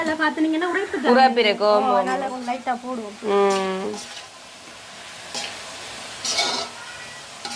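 Spiced meat cooking Batticaloa-style as a devilled dish, sautéing in a pan with a soft sizzle and light stirring scrapes. A person talks over the first half, then the frying continues faintly on its own.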